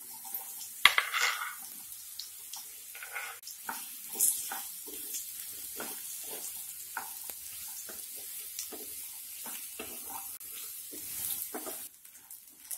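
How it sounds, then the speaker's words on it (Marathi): Raw banana slices shallow frying in a little oil in a nonstick pan, a soft steady sizzle with scattered clicks and scrapes of stirring, fairly quiet and close, no voices. "इथे नॉनस्टिक पॅनमध्ये थोडंसं तेल घालायचं आहे व त्यामध्ये आपली कापलेली केळी शॅलो फ्राय आपल्याला करून घ्यायची आहे."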